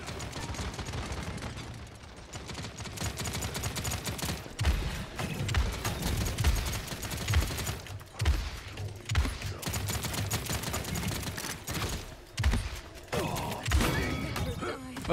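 Pump shotgun blasts from the monk Buck in the Paladins game ring out as repeated heavy shots spaced a second or two apart, amid busy game effects and mechanical clatter, with a voice talking at times.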